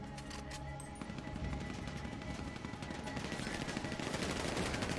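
Gunfire in a GTA video game, a dense and continuous burst of rapid shots like a fusillade that stays loud and unbroken the whole time, with no clear speech.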